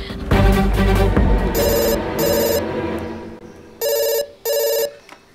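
Electronic telephone bell ringing loud and close in repeated bursts, first over other loud noise, then alone in two clean rings with short gaps.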